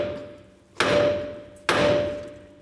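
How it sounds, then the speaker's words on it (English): Two sharp metal hammer strikes on a lower ball joint of a 2007-2014 GMC Sierra 3500 HD land about a second apart, each ringing briefly before fading, with a steady faint hum underneath and no talking. "now I'm gonna take a hammer and just get this started,"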